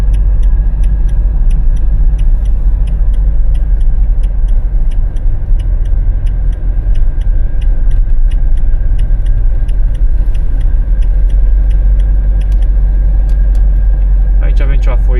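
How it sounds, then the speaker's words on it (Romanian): Cars on a forest road near Șiria in Arad give a loud, steady engine rumble close by, lasting throughout with little change. "Hai să lăsăm mașinile să treacă."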